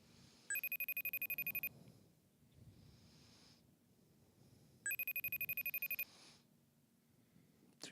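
Two rings of a telephone line during a call, each a bright electronic trill lasting about a second, separated by a pause, fairly loud against quiet room hiss and soft breathing.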